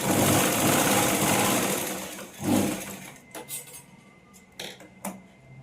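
A sewing machine stitches a hem on blouse fabric, a steady close mechanical whir for about three seconds, then stopping, followed by a few faint clicks and handling noises.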